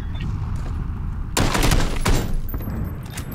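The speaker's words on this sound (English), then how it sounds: "He got me with an AK." An AK rifle fires in PUBG, a loud close burst of rapid automatic shots cracking over steady background noise, with a second short volley just after.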